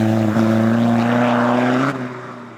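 A 400 BHP hybrid-turbo MK1 Skoda Fabia VRS goes foot-down at full throttle, a loud, close, rising engine drone with strong steady tones that climbs in pitch, then breaks off sharply and fades as the throttle lifts.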